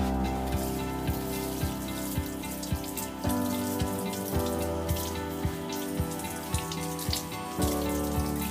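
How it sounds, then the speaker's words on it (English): Utility gloves being washed under a running tap, a steady water stream splashing with irregular drips and small clatters throughout, close and continuous. "Wash utility gloves and dry them."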